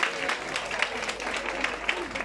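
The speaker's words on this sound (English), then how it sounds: "I think that alone deserves an applause." Audience applause at a technical college year-end awards function, a dense continuous patter of many hands clapping with occasional louder claps, steady throughout.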